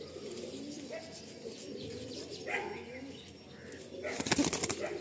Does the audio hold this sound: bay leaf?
no